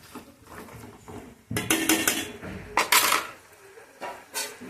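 A utensil clinks and scrapes against a pan while chicken curry with onions is stirred, giving irregular metallic taps and scraping bursts at close range.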